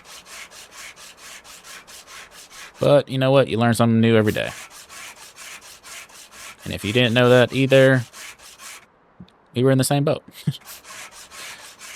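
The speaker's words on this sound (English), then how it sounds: "now let's go ahead and grab the sandpaper" Steady back-and-forth sandpaper strokes rub over a car body panel in Car Dealer Simulator, a soft rhythmic scratching that continues under bursts of someone talking.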